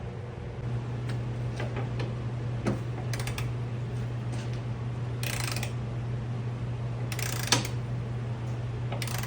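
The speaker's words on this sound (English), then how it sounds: "I'm going to switch to the ratcheting breaker bar." A ratcheting breaker bar works at removing a broken bolt on a vehicle, sparse clicks and a few short bursts of ratcheting over a constant low hum, close but modest in level, with no talking.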